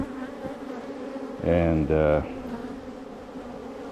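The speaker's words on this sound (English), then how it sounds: "A couple hundred bees." Honey bees hum in a continuous drone during a December bee yard inspection of a weak colony, with a louder, closer buzzing burst in the middle and a brief spoken word.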